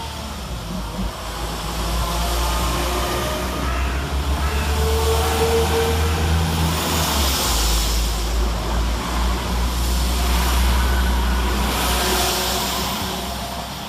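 Two coupled West Midlands Railway Class 172 diesel multiple units pull out of Birmingham Moor Street station, a loud, steady engine drone and rumble building and holding close by, with rising whine and rail noise and no voices.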